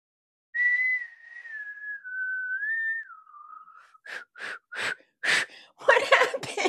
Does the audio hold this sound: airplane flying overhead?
no